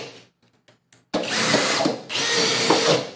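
Two hammer drills, a Milwaukee Fuel and a Kobalt XTR, start together after a short countdown and run loudly side by side in speed 2, a steady high whine with a brief dip partway through before surging again.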